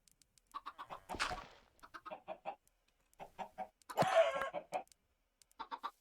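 Chickens in a coop in the Minecraft video game cluck in short, separate bursts, with a couple of louder flutters between them, clear and fairly close.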